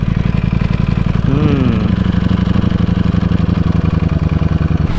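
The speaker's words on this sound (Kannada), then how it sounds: "ಇದು ಹವರ್ ಬೋಟ್, ಫ್ಯಾನ್ ಬೋಟು" A hovercraft fan boat engine at Dhanushkodi runs with a loud, steady, buzzing mechanical drone and rapid regular pulsing, close by, with a brief rising and falling pitch sweep partway through.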